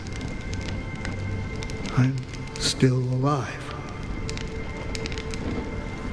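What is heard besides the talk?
rain falling in video game Honkai Star Rail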